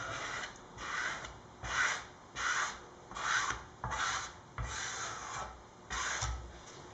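Excess filler is squeegeed off a Les Paul guitar body in a series of about nine rhythmic scraping strokes, close and fairly quiet, each a rough rasp lasting under a second.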